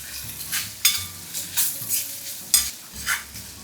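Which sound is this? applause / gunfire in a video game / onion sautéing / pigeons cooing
onion sautéing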